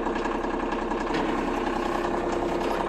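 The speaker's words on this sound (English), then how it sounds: "I've been warming up the tractor for about 15 minutes" A 2022 Kioti SE2610 cab tractor idles while warming up on a minus-ten morning, a steady, even diesel rumble with a faint knocking pulse, close and constant throughout.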